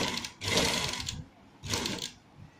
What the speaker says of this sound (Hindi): छोड़ के इस पे सिलाई लगानी है